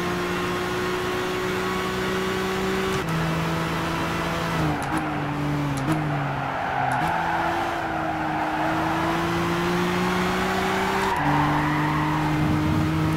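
Race car in Gran Turismo 6 sliding off the track, with a steady engine drone and a long continuous tire squeal shifting pitch as the car skids, loud and close with no talk.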